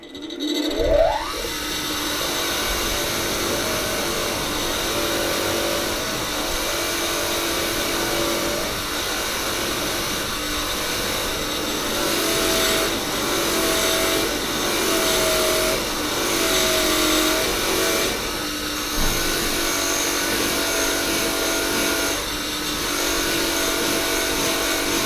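A powered wire brush scrubs carbon from an inlet valve off a 27-litre Rolls-Royce V12 Centurion tank engine, a continuous loud whirring grind that holds steady for about twenty-five seconds.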